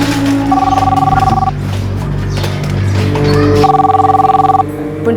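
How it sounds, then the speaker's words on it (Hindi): An old-style telephone rings twice, each burst a trilling electronic bell lasting about a second, loud and close, with a pause between and voices and background music underneath. "देखो तो किसका फोन है?"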